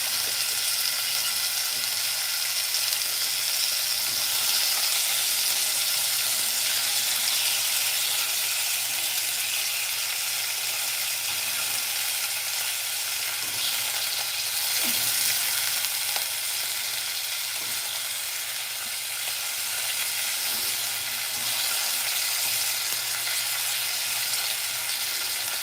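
Stew meat browning in a hot pan, a continuous bright sizzle with scattered pops and a few stirring clatters, close and steady, without voices.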